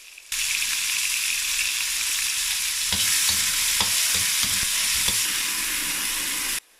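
Perilla and fava beans stir-fried in a hot pan give a continuous close sizzle, broken by several sharp scrapes and knocks of the spatula against the pan, with no voices.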